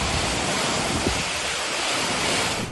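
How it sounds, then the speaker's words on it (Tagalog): Strong typhoon wind from Typhoon Aghon roars steadily through coconut trees in Sariaya, Quezon, a dense, continuous rushing blast with buffeting on the microphone and no voices. "Tila sumasayaw sa ihip ng hangin ang mga puno ng niyog sa Sariaya, Quezon sa pananalasa ng bagyong Aghon."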